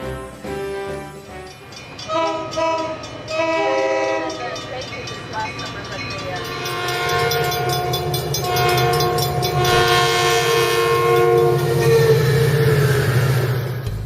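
Metrolink EMD F40PH locomotive SCAX 800 with a Nathan Oldcast P2 horn sounds several loud horn blasts, then a long sustained chord over the deep rumble of the running diesel engine up close.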